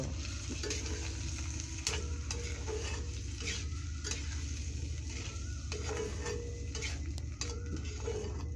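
Chickpeas for chhola bhuna being stirred in a cooking pot, a steady close scraping and bubbling churn with a low simmering rumble underneath, continuous for the whole stretch with no talking.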